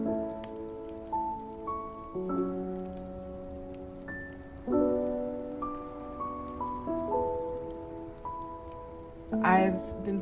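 Rain falls steadily in a Christmas ambience loop, a faint, even patter bed beneath soft, sustained melodic music notes that dominate, with a brief louder flourish near the end.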